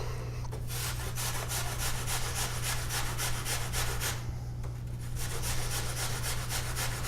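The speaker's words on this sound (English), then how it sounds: "we just want to give this a quick grate" Muffin ingredients are grated for a healthy muffin mix, with rhythmic back-and-forth rasping strokes against a grater. The steady scraping is close and even, with a brief pause midway and a constant low hum underneath.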